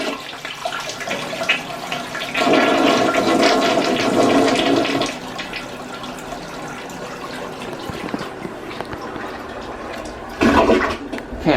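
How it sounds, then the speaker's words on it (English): A hotel bathroom toilet flushes in a Quality Inn in Aberdeen, South Dakota: a loud rushing surge of water, then a quieter refill trickle, and a second brief gush near the end, with no one speaking. "So here's a flush."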